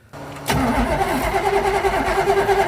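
A Corvette-engined go-kart cranks and fires up with a sudden loud catch about half a second in, then settles into a steady, rough, throbbing idle close by.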